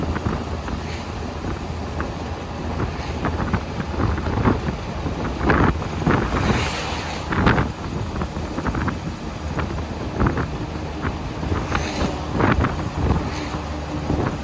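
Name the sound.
1924 Packard Single Six driving at cruising speed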